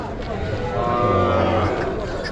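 Bullock-cart cattle at a village native cattle market moo in a long, low call close by, with people talking over the crowd noise.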